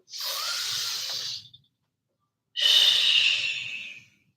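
Two long, audible breaths during a yoga session: a slow inhale, a short pause of silence, then a stronger, slightly louder exhale, both close and alone.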